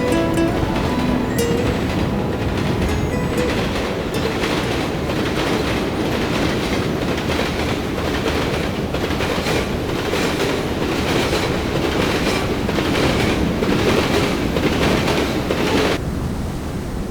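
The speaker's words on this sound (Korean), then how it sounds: "기차는 옛 추억을 뒤로 한 채 다시 달립니다" A train runs along railway tracks, wheels clattering in a steady rhythmic clickety-clack over a dense, loud rolling rumble that continues throughout.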